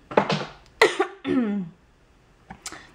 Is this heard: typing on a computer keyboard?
no